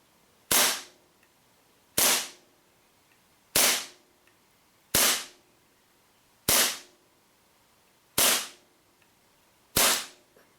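WE Sig Mark 25 airsoft pistol fired seven times alone, sharp snappy shots evenly spaced about a second and a half apart, each with a short decaying tail.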